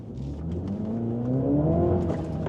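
A 2024 Mini John Cooper Works 1to6 Edition with a 228-horsepower engine and manual gearbox pulling away in first gear, engine note rising steadily from a low drone, close and moderately loud.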